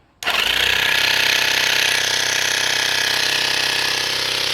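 A mini air compressor (model RF-LA 02), running off a homemade transformer power adapter, switches on abruptly and keeps up a loud, steady, buzzing mechanical rattle with a strong pulsing low hum and no speech over it.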